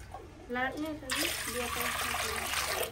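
Water from a 500-gram jug pours into a pot, a steady splashing rush that starts partway through and continues loudly, with someone talking over the first part.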